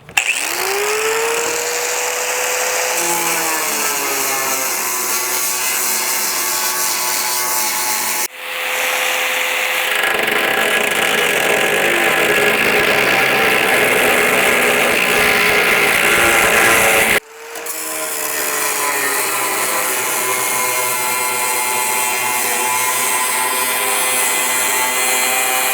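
A cutting wheel grinding into the sheet-metal dash of a 1955-59 Chevy truck, a steady loud high-pitched whine with two brief stops and restarts, no talking.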